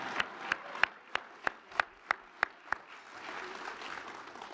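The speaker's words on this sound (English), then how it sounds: "You can clap, go ahead, yeah." About nine crisp claps land in a steady, evenly spaced rhythm at an alumni awards ceremony, sounding close and fairly distinct, then give way to a soft room murmur.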